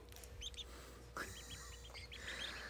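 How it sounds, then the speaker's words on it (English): Tiny newly hatched ducklings peep in soft, high chirps, several overlapping in quick bursts, close by and fairly faint against a low background hum. "This is what I call a pile of ducks."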